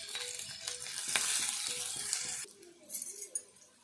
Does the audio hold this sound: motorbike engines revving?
no